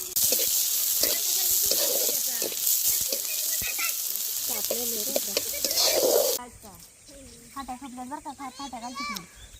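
Onion sizzles in a hot pan outdoors while fish is cooked with family by a river pool; loud steady frying hiss fills the first six seconds under voices, then drops away as children and adults talk.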